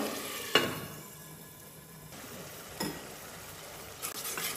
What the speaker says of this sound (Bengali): দেখুন পেঁয়াজটা কষিয়ে নিচ্ছি।